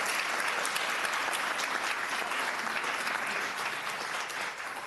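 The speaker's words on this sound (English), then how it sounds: "So we can have one more round of applause for our students." Board meeting audience applauding students, a sustained wash of dense hand clapping throughout, steady and fairly close with no voices standing out.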